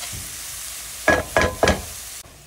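Peas and onion pieces for a samosa filling frying in a pan, a low sizzle broken by three quick stirring scrapes close to the listener, then a sudden drop in level near the end.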